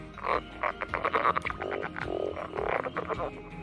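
A small green spotty frog from the Grand Canyon region croaks repeatedly in quick, uneven bursts, loud and close, with no voices over it.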